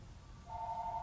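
A telephone starts ringing indoors, a bright electronic tone that cuts in halfway through and holds steadily over a quiet room background.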